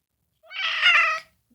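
A house cat lets out a single clear, drawn-out meow, close and fairly loud, with silence on either side.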